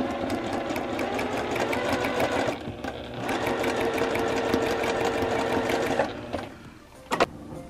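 A longarm quilting sewing machine stitches a T-shirt quilt with a steady, fast, close mechanical hum and rapid needle rhythm that runs continuously, then slows and stops near the end with a couple of clicks.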